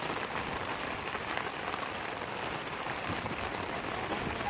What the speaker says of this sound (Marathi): बघता बघता भलताच पाऊस आला.